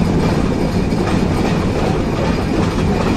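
The Chilahati Express from Natore toward Dhaka runs on rails through a wide curve before the Jamuna railway bridge, giving a loud, continuous rumble with rhythmic wheel clatter heard from on board.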